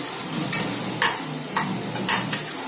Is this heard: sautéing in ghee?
yes